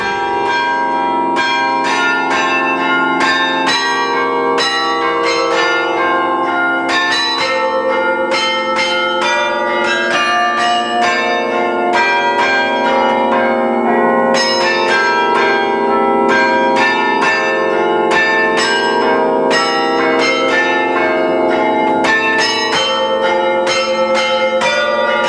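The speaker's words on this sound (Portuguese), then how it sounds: "é a Sara Rosa Elias, entusiasmou-se pelos carrilhões e, como vê, já vai tocando" Carillon bells at the Mafra Convent, played by a 17-year-old girl, ring out in a continuous melodic peal of quick, overlapping strikes that ring on loud and clear throughout.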